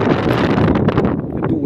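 Strong wind buffets the microphone in a continuous roar, loud and close, easing slightly toward the end.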